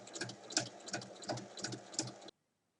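A sewing machine topstitches along a folded fabric edge, running in a steady rapid whirring rattle with rhythmic pulses, close and clear, before stopping abruptly.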